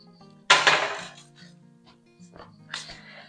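Metal sheet pans lined with aluminum foil and topped with a cooling rack are set down and handled in a kitchen, giving a sharp metallic clank followed by lighter rattles and a later clink, with faint voice underneath.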